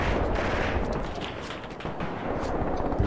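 Mortar fire and gunfire in the war game Graviteam Tactics, a dense, continuous crackle of shots and dull distant thuds of artillery rolling together with no pauses.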